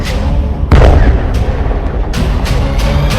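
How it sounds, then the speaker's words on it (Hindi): A missile strikes an Israeli Merkava tank standing at the Hanita border point, a heavy booming blast followed by several further sharp distant bangs and rumbling reports of battlefield fire. "यहां एक मिसाइल निकलती है और सीधे बॉर्डर पर खड़े इजराइल के मरकावा टैंक को फोड़ देती है।"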